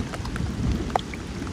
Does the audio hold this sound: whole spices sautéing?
no